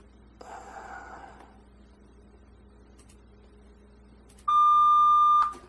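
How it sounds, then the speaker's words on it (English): A steady 1200 Hz pure test tone sounds loud and clean for about a second near the end, after a brief breathy noise early on and quiet background. "This is a 1200 hertz, so it's a little higher."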